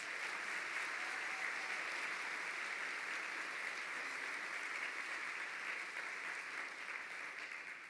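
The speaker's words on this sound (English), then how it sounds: "Let's give them a round of applause." An audience applauds Hall of Fame inductees at the Women of Distinction 2023 live event, a steady, dense, moderately quiet ovation that fills the whole stretch without pause.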